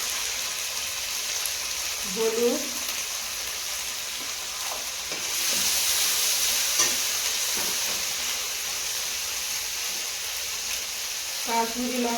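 A ground paste of green chili, dried chili and cumin fries in hot oil with a steady hiss and sizzle, stirred now and then, close and moderately loud, with a voice speaking briefly over it.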